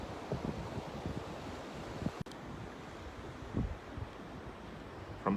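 Ocean waves wash onto a beach at sunset in a steady low roar with soft surges, mixed with wind buffeting the microphone and a brief knock partway through.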